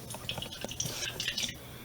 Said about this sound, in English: I'm going to pour that 1 ounce of water